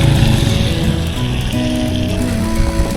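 Rain falls steadily during a bike ride on the Cabog-cabog Little Batanes trail, a loud, constant hiss of drops close to the microphone with a faint low hum underneath.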